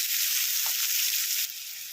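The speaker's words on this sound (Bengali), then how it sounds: "পেঁয়াজগুলো একটু লাল করে ভেজে নিয়ে ফেরত আসি" Onions frying in a pan for a Bengali boal fish kalia give a steady, close hiss that stays even for two seconds and softens slightly near the end, with no voices.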